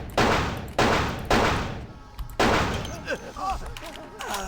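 Gunfire in the PC game Vampire: The Masquerade – Bloodlines: four loud, sharp shots with ringing tails, spaced about half a second to a second apart, followed by quieter game sounds and faint voices.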